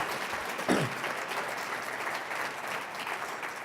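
Steady applause from a crowd at a community conversation on mental health fills the whole stretch, a dense wash of clapping that holds at an even level throughout.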